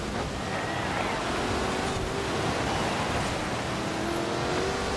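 A 2015 Lexus RC F in Forza Horizon 4 drives on snow without snow tires, giving a steady, loud engine roar with tire and surface hiss that continues unbroken throughout.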